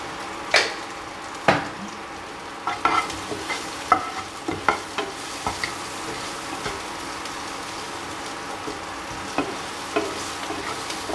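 Onions and chilies frying in ghee in a pan, a continuous close sizzle broken by repeated sharp scraping knocks as they are stirred, with no talking.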